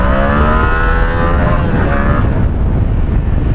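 A Yamaha MT-07 Tracer motorcycle engine roars loudly while riding, its pitch sweeping as it accelerates, with heavy wind rumble over the microphone.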